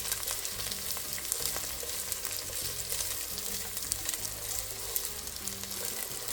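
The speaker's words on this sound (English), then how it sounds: "Then I put the onions on the pot." Onions frying in oil in a pot, an even crackling sizzle throughout with light scattered pops and faint stirring, heard close and without talk.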